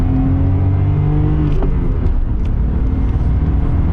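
A Nissan R31 Skyline accelerates hard on a hot lap around a track, its engine a loud, steady rumbling drone heard close up from inside the car, with the pitch sliding as it climbs through the revs.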